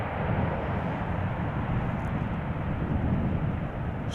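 A KLM airliner landing at Amsterdam Schiphol Airport, heard as a loud, steady broadband roar of engine and rushing air that holds evenly throughout, with no voices.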